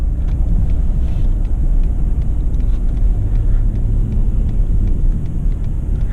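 Ford F-150 pickup truck driving through town streets, heard from inside the cab as a steady, loud low engine and road rumble that continues without a break and without any talk.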